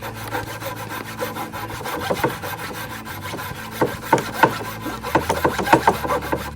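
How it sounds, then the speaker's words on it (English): Hand saw cutting notches into a steel go-kart frame for a rear axle assembly, a steady rasping stroke that turns into a run of sharper, louder strokes toward the end, close and without talk. "we cut the notches out of the frame, and that took a lot longer than I was expecting. Lots of sawing"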